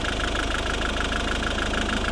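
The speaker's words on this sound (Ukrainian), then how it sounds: "Ось робота двигуна" A 2012 Volvo V50's 1.6 diesel engine (D4162T) idles steadily and evenly up close, with a faint rhythmic chug running through its constant hum.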